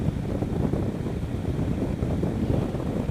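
Steady, loud wind roar buffeting a helmet while riding a KTM 1190 Adventure R motorcycle with the visor open, a continuous low rumbling rush with no voices.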